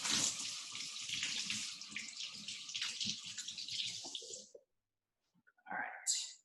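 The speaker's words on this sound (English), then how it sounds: "I'm gonna rinse off my knife here" Tap water runs steadily onto a kitchen knife as it is rinsed, a close hiss with small splashes lasting about four seconds, then a short gap and a brief final splash.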